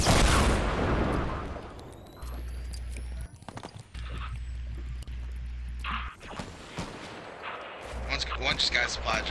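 Shooter video game combat with sharp gunshot bursts and booming rocket-like blasts over a low steady hum, some shots close and loud, others more distant.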